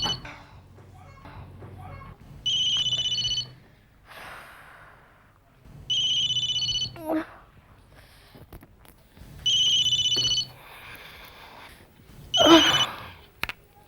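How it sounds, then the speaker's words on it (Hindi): A mobile phone ringtone rings in a home in four repeated bursts of an electronic tone, with a voice speaking between the rings. "देखो तुम्हारा मोबाइल कब से बज रहा है।"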